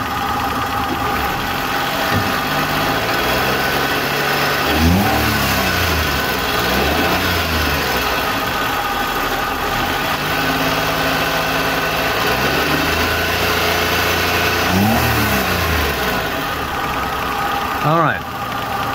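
A car engine idles steadily and is revved a few times, with rising and falling pitch sweeps, while a newly installed tachometer reads the RPM. The engine is close and loud throughout, and people talk over it.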